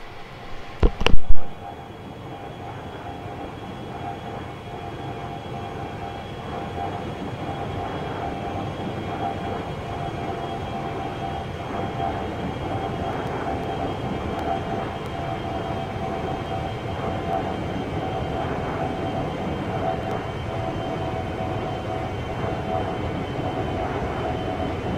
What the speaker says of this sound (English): overhead flyby in FSX.